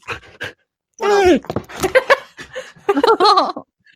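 An excited dog pants rapidly and loudly up close in short bursts, with whimpery, vocal breaths, while a person laughs and voices mix in between.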